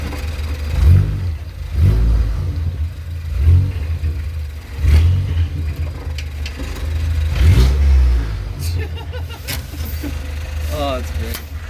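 Mazda Miata fitted with a swapped Ford EcoBoost engine revving loudly up close in repeated low, throaty bursts, with people talking over and between the revs.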